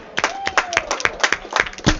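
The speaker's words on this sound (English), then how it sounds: "Let's set him off with a round of applause." Spectators at the 2014 Ebonite Lafayette Open bowling finals give scattered, distinct handclaps in a brief, uneven round, with a voice briefly heard over them.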